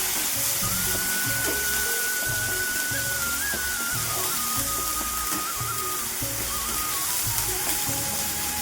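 Onion, green chili, ginger and garlic paste sizzling in hot oil for doi katla, a steady close frying hiss with a faint background whine and some soft stirring bumps.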